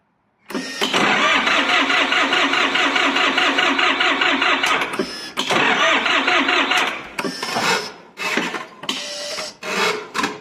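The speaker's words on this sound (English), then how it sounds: "Let's see if the tractor starts." A tractor diesel engine with glow plugs cranks and catches on a cold day, then runs loud and steady with a rapid knocking rhythm before sputtering and revving unevenly near the end.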